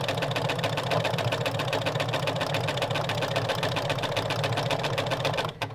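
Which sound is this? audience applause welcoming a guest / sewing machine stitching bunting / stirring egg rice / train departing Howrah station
sewing machine stitching bunting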